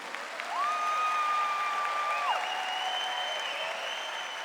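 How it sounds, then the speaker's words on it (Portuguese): Crowd applause at a Christian camp gathering, an even roar of clapping with a sustained whistle-like tone riding above it for a couple of seconds. "Este aplauso é para cada um de vocês que estão aqui, mas pode ser mais forte"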